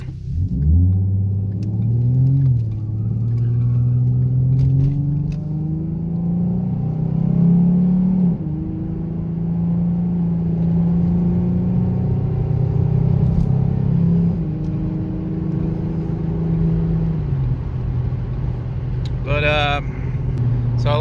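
A 3.7 V6 Mustang with a PR-X 87 tune driving and accelerating, its engine droning steadily with rising and falling pitch as it shifts through gears, loud and continuous from inside the car.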